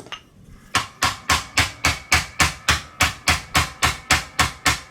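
A hammer strikes the truss rod of a Rickenbacker 4003 bass guitar over and over, about fourteen sharp metallic blows in a steady, even rhythm, close and loud, with no voices.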